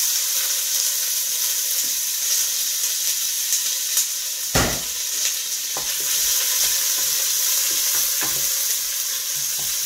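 Onions dropped into hot ghee and frying over a low flame with a loud, continuous close-up sizzle, one sharp crackling burst partway through, and occasional stirring.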